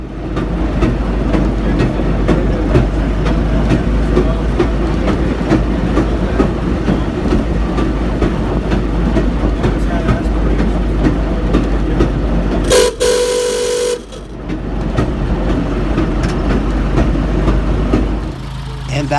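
East Broad Top Railroad M-3 railcar rolling backwards across a crossing, a steady loud rumble of wheels on rails throughout with a brief horn-like tone near the end, close by.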